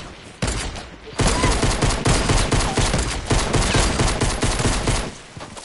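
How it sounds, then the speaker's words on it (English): Rapid gunfire in the video game Fortnite, dense, loud, overlapping shots that run almost continuously for several seconds after a brief quiet start, with no talk over them. "I can hear snipers."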